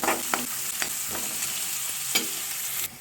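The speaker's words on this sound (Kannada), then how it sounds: "ಇದನ್ನು ಚೆನ್ನಾಗಿ ಸ್ವಲ್ಪ ಇದರ ಬಣ್ಣ ಗೋಲ್ಡ್ ಬ್ರೌನ್ ಬರೋವರೆಗೂ ಚೆನ್ನಾಗಿ ಹುರಿಯಿರಿ" Two onions frying in a pan until golden brown, a steady close sizzle with a few sharp scraping stirs of a spatula against the pan.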